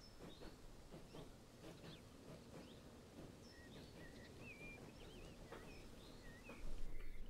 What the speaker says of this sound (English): that's definitely a train going the other way